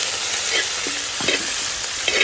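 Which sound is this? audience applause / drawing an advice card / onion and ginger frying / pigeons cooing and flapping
onion and ginger frying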